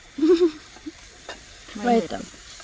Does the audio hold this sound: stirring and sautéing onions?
yes